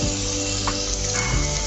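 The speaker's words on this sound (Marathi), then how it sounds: "हा बारीक चिरलेला कांदा टाकत आहे." Finely chopped onion hits hot oil and sizzles loudly and steadily up close, with a few light stirring scrapes in the pan.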